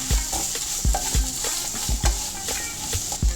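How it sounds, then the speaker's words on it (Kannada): Stirring a mango rice mixture with turmeric powder and salt in a pan, with a spoon scraping and tapping the pan about eight times in an uneven rhythm over a faint sizzle, close and fairly loud, with no talking. "ರುಚಿಗೆ ತಕ್ಕಷ್ಟು ಉಪ್ಪು ಹಾಕಿ ಅರಿಶಿನ ಪುಡಿ ಹಾಕಿ ಚೆನ್ನಾಗಿ ಮಿಕ್ಸ್ ಮಾಡ್ಕೊಳ್ಳಿ."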